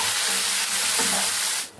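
Tempering with chopped tomatoes is stirred in a pan for a cashew and chukkakura curry, a loud, steady sizzle and hiss with soft scraping that fades out at the end.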